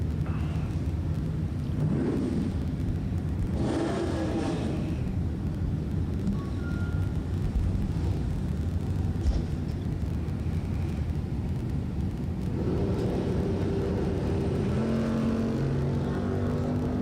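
Bracket drag racing launch at a drag strip, with a Mustang in the right lane against another car: a loud, continuous roar of engines that swells as the cars leave the line and carries on as they run down the track.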